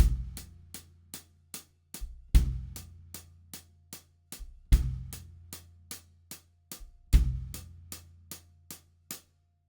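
Drum kit playing a 12/8 shuffle: steady closed hi-hat ticks in triplet groups, with a deeper bass drum thump on every first count, four bars, clean and close with no talking.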